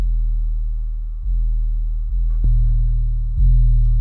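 A deep, pure sine-wave 808 sub-bass tone plays alone as a series of sustained notes, shifting slightly in pitch between each, smooth and clean.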